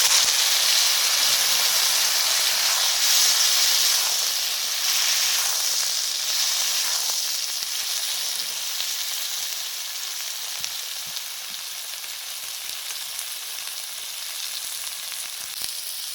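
Radish, eggplant, potato and pumpkin fry together in a pan with oil, making a continuous loud sizzle and hiss that slowly settles, with a few faint stirring clicks.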